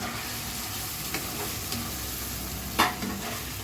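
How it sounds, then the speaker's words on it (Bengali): Jackfruit seeds frying in a spice paste for a curry of dried fish and taro stolons, a steady close sizzle with a few sharp scraping stirs of a spoon against the pan. "এই পর্যায়ে এসে আমি কাঁঠালের বিচিগুলো দিয়ে দিব"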